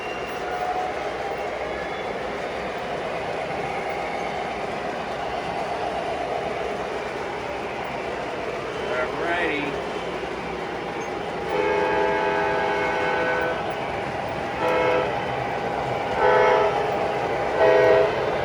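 A steady rumble of a model train rolling along track, with clicking passes over switches and brief horn-like tones toward the end.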